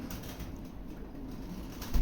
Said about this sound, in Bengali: কবুতর ডাকটা